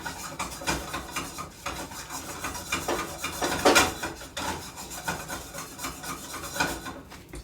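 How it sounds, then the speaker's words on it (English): Food is stir fried in a pan with olive oil, a utensil scraping and rubbing against the pan in a continuous busy rhythm with occasional louder knocks, no voices. "Basically stir frying."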